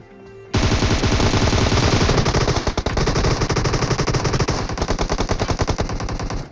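Automatic fire from Groza and AUG rifles in PUBG Mobile, a long, loud, rapid stream of gunshots that starts abruptly and rattles on almost without a break, with brief dips in the barrage.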